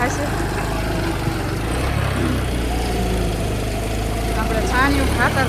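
A loader gathering manure on a village farm, its engine running with a steady low rumble throughout, heard at moderate distance under a voice talking.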